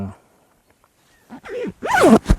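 Zipper on the side pocket of an Alpinestars Sektor mesh v2 hoodie, pulled in a few quick rasping strokes of rising and falling pitch, close and fairly loud after a near-silent pause.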